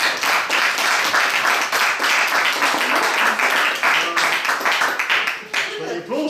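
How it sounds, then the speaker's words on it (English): Audience applause after a magic trick at an evening magic and music show, heard as a loud, dense burst of continuous clapping from a crowd, with some speech mixed in near the end. "That's where the applause comes, you see."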